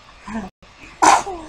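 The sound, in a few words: sneeze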